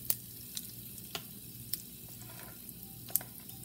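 Mustard seeds, urad dal, cumin and asafoetida tempering in hot oil give a faint, steady sizzle broken by sharp scattered pops and crackles.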